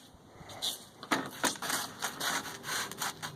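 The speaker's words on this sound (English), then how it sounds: "I'm using 320 grit wet dry sandpaper wrapped around it" Quiet, rhythmic rubbing strokes of 320-grit wet/dry sandpaper wrapped around a block, several back-and-forth passes with soft scratchy texture.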